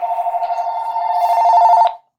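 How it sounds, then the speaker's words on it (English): A phone rings with a steady electronic warble, loud and close, pulsing rhythmically for about two seconds before cutting off abruptly, with no voices. "my phone is ringing"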